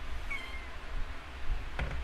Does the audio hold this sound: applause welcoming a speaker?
no